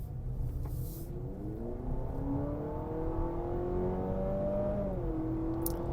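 Piped-in engine sound in a 2024 Honda CR-V e:HEV RS hybrid SUV hums and rises in pitch as it accelerates, a smooth synthetic-sounding drone over steady road rumble, then the tone drops.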